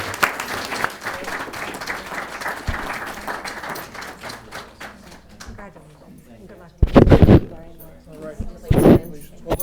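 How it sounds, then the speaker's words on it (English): Applause at a school committee meeting for students, a room of people clapping steadily for several seconds and then fading, followed by a few louder handling bumps and talk nearby. "how about a round of applause for our student activities?"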